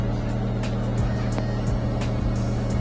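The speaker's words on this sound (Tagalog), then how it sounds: "stable na ulit yung idle nya" A Mitsubishi Lancer engine idles steadily after an idle servo repair, a close, even low hum with a constant rumble and no revving.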